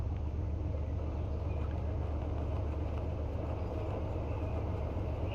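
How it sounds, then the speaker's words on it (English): A boat engine in the eSail sailing video game rumbles in a steady, even low drone from start to finish, with no voices. "Start my engine."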